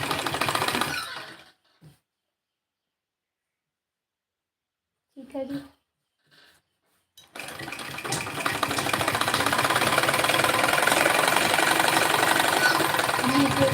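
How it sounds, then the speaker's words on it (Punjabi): A sewing machine stitches a suit, running loud and steady with a fast mechanical rattle after a few quiet seconds with brief handling noises, and an earlier burst of machine noise at the start. "ਆਪਾਂ ਸਲਾਈ ਨਾਲ ਨਾਲ ਹੀ ਲਗਾਉਣੀ ਹੈਗੀ ਆ"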